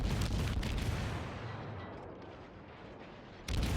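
Warship guns fire in a World of Warships naval battle, with a Fletcher destroyer in play: a heavy booming salvo that rolls off and fades, then a fresh blast at the end, with no talking.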